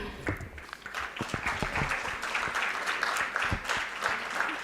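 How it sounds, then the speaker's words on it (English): An audience at an evening gathering claps in a steady round of applause, dense and continuous throughout. "Thank you for that round of applause."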